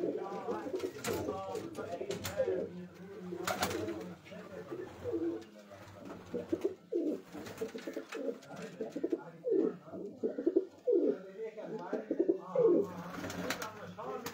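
Pigeons coo on a rooftop flying setup where a few hundred birds are kept, a steady layered cooing near and close, with people talking throughout.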